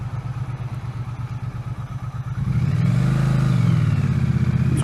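A Triumph Street Cup 900 motorcycle engine idles with a close, throbbing pulse, then revs up partway through into a louder, sustained roar.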